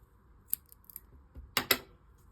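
Scissors snip through strands of yarn wrapped for a crochet holiday gnome ornament, with a few light snips followed by two sharper, louder close cuts in quick succession.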